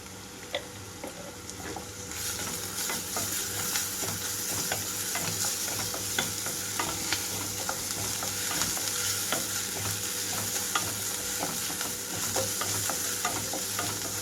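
Ground spice paste and turmeric fry with softened onions for a cauliflower green chili curry, a steady, fairly quiet sizzle running throughout with occasional light scrapes and clicks of stirring.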